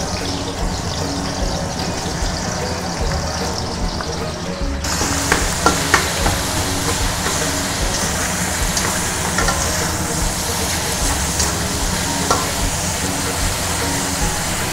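Minced pork and garlic stir-fry in a pan with a continuous loud sizzle that surges midway as more goes in, broken by scraping and clacks of a spatula tossing the food.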